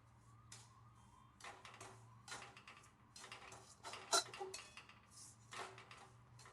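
A sweet fasting mixture cooked with ghee in a pan over low heat is stirred continuously, giving faint scraping and clinking of a spoon against the pan in irregular strokes, with one sharper metallic clink, under a low steady hum.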